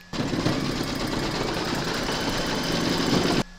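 An embroidery sewing machine stitches a rabbit's nose in black thread for a drawstring bag, a steady rapid mechanical chatter that starts abruptly, runs evenly and close for over three seconds, then stops.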